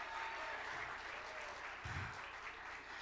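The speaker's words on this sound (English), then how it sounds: "we can give them a round of applause" Faint, steady applause from an audience at a medical school holiday arts showcase, honoring the show's subcommittee members, with a brief low thump partway through.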